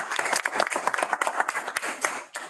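Several people clap together in a room, a dense, uneven run of hand claps at close range that keeps going with slight variations in loudness.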